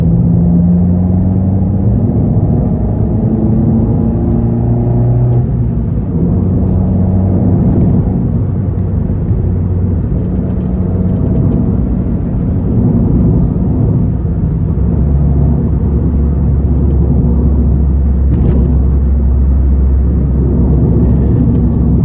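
An Abarth 595 fitted with a Toyo exhaust pipe, heard from inside the car with the windows up: a loud, steady engine rumble with tones that rise and fall through the gears as it accelerates.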